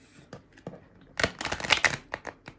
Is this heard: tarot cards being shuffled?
yes